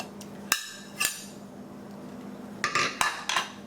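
Metal lid of a pressure cooker, used for chicken biryani, clanks open after the pressure is released: a few sharp metallic knocks and clinks, close and fairly quiet, with a faint steady hum underneath.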